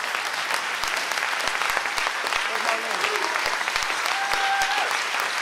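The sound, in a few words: audience applause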